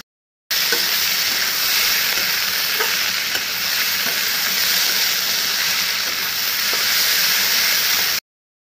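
Ginger and garlic fry with onions browning in a pan, a steady close hissing sizzle broken by soft stirring scrapes, running evenly from start to finish.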